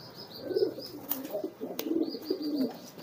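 Domestic pigeons in a loft cooing, soft low repeated coos close by with a few brief sharper knocks and a faint chirp, no voices.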